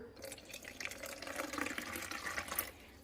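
Warm water poured from a tap into small containers while cooking chicken molé, a close, steady trickle and splash with shifting pitch as the containers fill, no voices.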